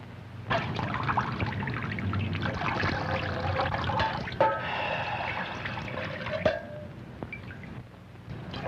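Water runs and trickles steadily at a moderate level, a continuous pouring flow with some splashy variation and a few small knocks.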